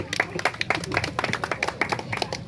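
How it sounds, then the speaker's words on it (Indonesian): A small group at an Independence Day staff celebration claps briefly after a photo of the winners, a few scattered, uneven claps close by and not very loud. "Ya, tepuk tangan."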